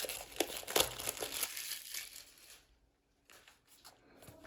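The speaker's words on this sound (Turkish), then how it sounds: "Hemen şuradan jelatinimizi açıyoruz." Cellophane wrap on a DJI Osmo Action 5 Pro box crinkles and tears open close up in quick, quiet bursts that trail off into a short silence before a few faint rustles.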